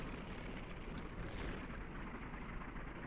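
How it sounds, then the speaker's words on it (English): Aircraft engines running together after start-up in the flight game IL-2 Sturmovik, with Japanese A6M5 fighters on the ground: a steady, loud, broadband roar and rumble that holds even throughout, with no voices. "All my comrades have started up their engines."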